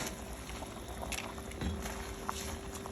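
Water boils in a cooking pot for chana pulao, giving off a soft, continuous bubbling hiss with occasional small pops. It stays quiet and steady, with no voices.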